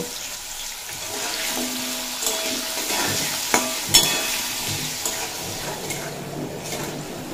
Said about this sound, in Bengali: আর ওই একইভাবে আমি আলুগুলো লবণ আর হলুদ দিয়ে ভেজে নেব।